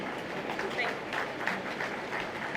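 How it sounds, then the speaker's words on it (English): An audience claps steadily at a launch event for a Lagos produce guarantee fund, a dense wash of applause from a crowd with a voice faintly over it. "I think we can give a better round of applause for the Honorable Minister of Communication, Innovation and Digital Economy, Dr. Bosun Tijani"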